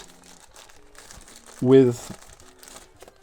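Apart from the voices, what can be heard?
soft touch plastic bag crinkling during laptop unboxing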